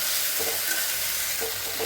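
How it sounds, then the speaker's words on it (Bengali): Chopped banana stem (thor) fries in hot oil, giving a continuous hissing sizzle with soft scraping stirs now and then and no talk. "থোড়টা ভাজা হোক, এরকম করে ভালো করে একদম ভাজা হবে"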